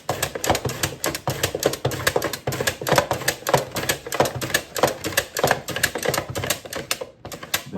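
Cabbage cut into eighths being sliced on a mandolin for a Texas-style slaw, giving a fast, steady run of crisp rhythmic chopping strokes close by, with no talk over it.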